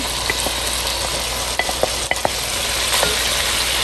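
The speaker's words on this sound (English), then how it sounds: "In my pot, I have 6 slices of bacon cooking in 1 tablespoon of olive oil" Six slices of bacon and an onion frying in a tablespoon of olive oil in a pot, with a loud, continuous close sizzle and a few sharp utensil clicks as they are stirred.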